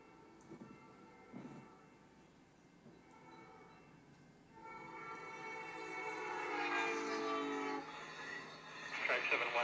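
An Amtrak Hiawatha passenger train approaches, its horn sounding in sustained tones over building rail rumble, distant at first then louder, with faint talk early on.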